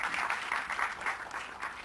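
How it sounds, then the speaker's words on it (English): Audience applause fills the hall at the Mary Kom movie trailer launch, a steady wash of many hands clapping together at moderate loudness, without anyone speaking over it. "So having got these claps"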